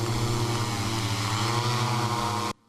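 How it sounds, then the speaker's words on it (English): Drone used to scare off bears in Japan, fitted with barking-dog speakers: a steady, loud propeller drone with strong harmonic buzz, continuous and close, cutting off abruptly at the end. "this is the first time we've used drones for bear deterrence"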